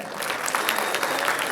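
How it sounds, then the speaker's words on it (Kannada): A crowd bursts into loud, sustained clapping, a thick wash of many hands close by with no pauses through the short stretch. "ಜೋರ್ ಚಪ್ಪಾಳೆ"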